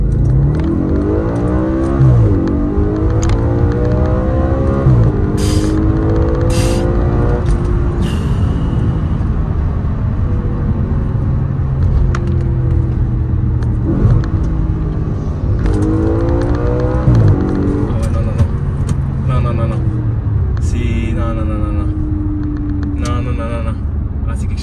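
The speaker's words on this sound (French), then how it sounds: "On va faire un départ arrêté, 0 à 80." An Audi RS4 estate launches hard from a standstill up to 80 km/h, its engine note climbing steadily through repeated gear changes, loud and close from inside the car, with someone talking over it.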